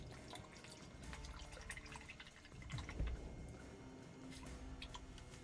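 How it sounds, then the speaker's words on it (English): Water pours into a container to rinse it out, a steady splashing trickle with scattered drips that runs for several seconds close by, swelling briefly near the middle. "Let's just pour in some water."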